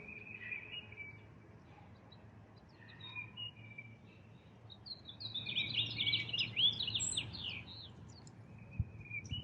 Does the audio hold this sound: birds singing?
yes